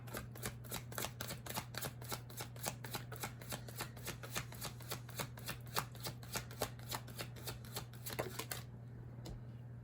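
Tarot cards are shuffled by hand in quick, rhythmic riffles of crisp snapping card flutters over a faint steady hum, ending abruptly with a last card drawn.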